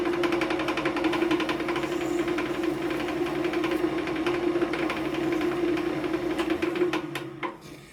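A wood lathe spins a yew wormhole hollow form with a steady motor whir and a rhythmic rattling hum, holding level for several seconds before winding down near the end.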